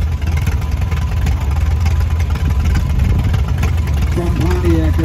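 An antique Twin City tractor engine runs at an antique tractor and steam engine show parade, a loud steady low chugging rumble close by with a person talking over it.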